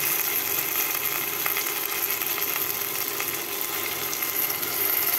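Chilli powder, turmeric, ginger paste and cumin paste sizzle in hot oil, a steady, close frying hiss that holds evenly throughout with no voices.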